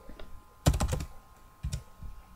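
Typing on a computer keyboard, heard as two short, close bursts of rapid keystrokes separated by a brief pause, with no voices.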